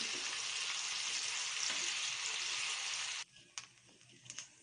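Soaked chickpea dal fries in a pan with a loud, steady, close sizzle that stops suddenly, leaving faint clinks and small noises.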